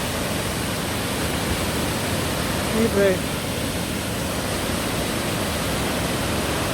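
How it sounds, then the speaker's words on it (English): A flooded burn roars over a waterfall, heard from right at its base as a loud, unbroken wash of rushing water filling the whole clip, with a brief spoken word partway through. "I'm right at the very bottom of the waterfall, looking right up at it, and the full ferocity of it is very impressive."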